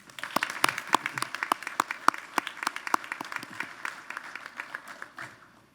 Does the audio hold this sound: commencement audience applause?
yes